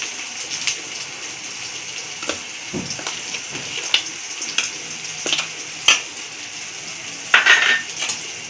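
Maharashtrian kadhi, a yellow curry, being stirred and mixed in a pan over lowered heat, with scattered utensil clinks and scrapes at an irregular rhythm over a soft sizzle and hiss.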